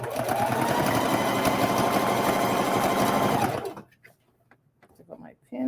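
A sewing machine stitches a half-inch apron hem in a steady, close, loud whir for about three and a half seconds, then stops; afterward there is quiet handling and a little soft speech.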